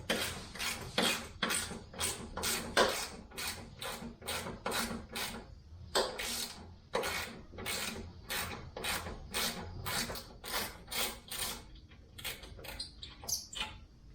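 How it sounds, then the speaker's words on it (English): Ratchet with a 10mm socket unbolting a part on a Jeep Cherokee during a headlight harness upgrade, a long run of rapid, evenly spaced clicking bursts, close and clear with brief pauses between strokes. "In this case, I'm gonna use 10mm socket. Just unbolt it"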